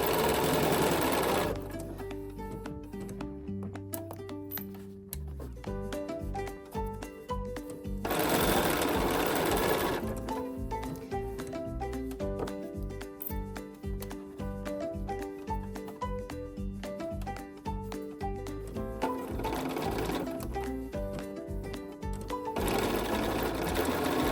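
A sewing machine stitches a curved seam in fabric, its rapid mechanical chatter coming in close, loud bursts separated by short pauses.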